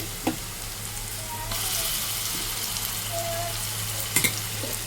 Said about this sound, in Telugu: ఇదంతా బాగా పచ్చి స్మెల్ పోయేంత వరకు వేయించుకోవాలి